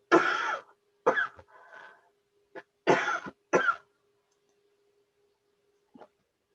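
A person with mild asthma coughs in two close clusters of harsh bursts separated by silence, followed by one faint cough near the end.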